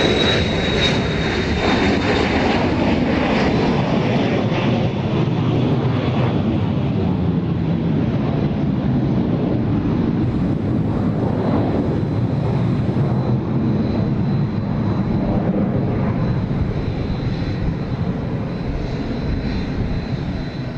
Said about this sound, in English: Got an Embraer Phenom 300 headed out.